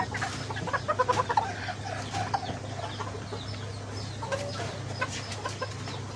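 Sebright chickens cluck softly at a distance in a quiet yard, with scattered low clucks and faint background hum.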